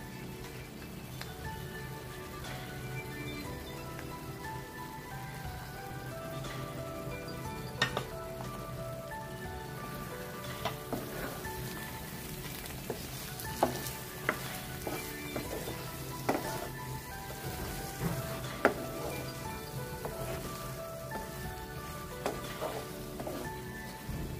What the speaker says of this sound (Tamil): இப்போ முட்டையை போடுவோம்